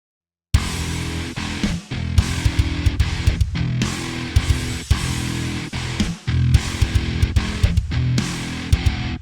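Palm-muted riffs from MIDI-programmed modern metal guitars, with pitch bend data restored, pound out in loud, dense bursts separated by short stops. The riff starts after a brief silence, and nobody talks.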